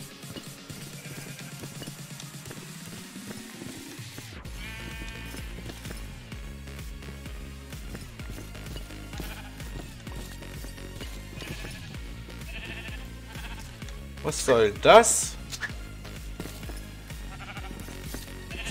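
Goats bleat in Minecraft over game background music, several short calls scattered across the stretch, with one louder, sharper cry near the end. A player speaks briefly.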